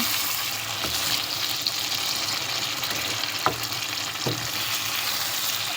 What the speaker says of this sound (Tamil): ஸோ இது வந்து நல்லா கிளறி விடுங்க